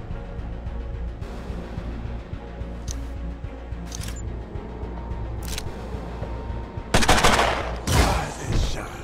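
Loud bursts from the Stalker Smasher weapon in Mutant Year Zero: Seed of Evil, a few sharp isolated cracks followed by two heavy, dense blasts near the end over a low hum, with no talking.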